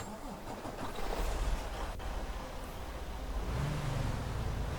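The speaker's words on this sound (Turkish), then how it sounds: "Aracımızı çalıştıralım." A Mercedes-Benz Travego 16 SHD bus engine in Euro Truck Simulator 2 starts and settles into a steady low rumble, with a rising whine and revving toward the end.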